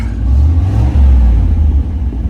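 A 1989 Chevrolet IROC engine revs up, producing a loud, low rumbling roar that rises and holds for a couple of seconds, with no talking.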